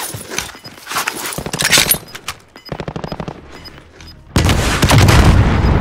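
Automatic weapon fire in the battle royale game Call of Duty Warzone: loud bursts of rapid shots broken by short pauses, ending in a sustained heavy volley.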